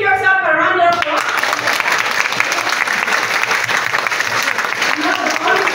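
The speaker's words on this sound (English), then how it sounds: "give yourself a round of applause" Applause from graduating teachers at an EdTech training program ceremony, loud and dense, rising just after a brief stretch of a speaker's voice and continuing as a sustained wash of clapping.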